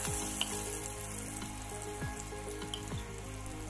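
Cashews, fennel and green chilies roasting in hot oil for Tamil coconut milk rice give a steady, close sizzle, with a few soft clicks of stirring.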